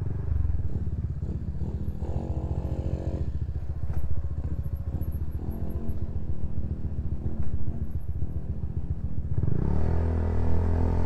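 A motorcycle rides along a narrow road near a campsite in Magdalena, Laguna, its engine a close, steady low rumble with small shifts in revs and some clatter, then a louder surge near the end.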